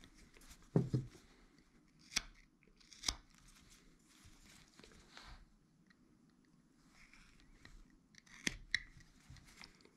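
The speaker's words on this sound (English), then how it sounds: "So I'm going to put a stop cut over here to do that and just start cutting down to it." Whittling knife slicing stop cuts into a small carved wood caricature figure, a handful of short crisp cutting snicks spread irregularly through a quiet close-up scene.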